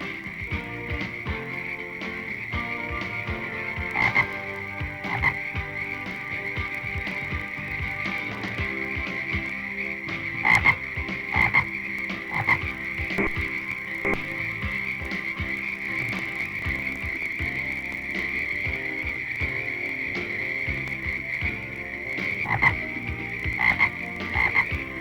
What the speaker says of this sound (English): One sound every female frog listens for is the croaking of a male.